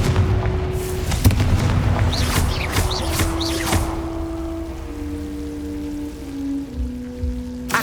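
Confringo blasting spell in Hogwarts Legacy landing with a deep boom over rumbling low noise, followed by crackling debris, sparkling chimes and sustained game tones.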